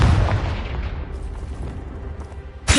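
A Confringo fire spell erupts in a deep booming blast that rolls off into a rumbling tail, followed near the end by a second sharp burst, loud against quieter fantasy game ambience.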